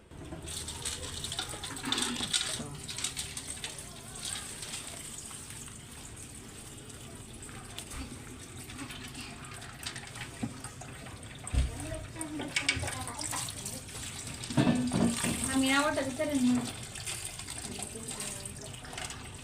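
Water splashes and pours while a home fish tank is being cleaned, a continuous wet gush rising and falling beneath people talking.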